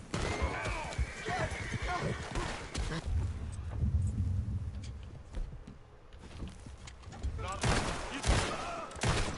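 Gunfire in the Western video game Red Dead Redemption 2, with repeated shots and bursts over galloping horse hooves and occasional whinnies, loud and busy throughout with in-game voices mixed in.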